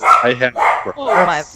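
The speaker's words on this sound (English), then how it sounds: "Yep, there goes my dog." A dog barks in a few quick bursts close by, tangled with people talking during an indoor podcast recording.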